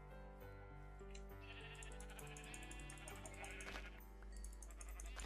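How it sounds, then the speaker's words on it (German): Sheep bleat repeatedly in the Minecraft video game, several overlapping calls sounding steadily at close range over a continuous low background. "hier sind jede Menge Schafe"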